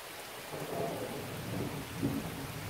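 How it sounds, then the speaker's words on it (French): A summer thunderstorm pours heavy rain outside a holiday cottage in July, with a dense steady downpour and low rolling rumbles of thunder swelling twice, no voices. "Il y a du tonnerre."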